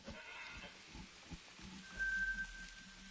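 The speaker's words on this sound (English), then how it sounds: "Feral goat warning call." Feral goat warning call in theHunter: Call of the Wild, a short bleat-like cry rising from a quiet wilderness backdrop around the middle of the clip, with faint ambient game sounds and no talk.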